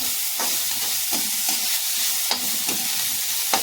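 Cabbage and vegetable manchurian ingredients sizzle steadily in a pan over low heat, with a bright continuous frying hiss and several sharp scrapes of a spoon stirring at irregular intervals.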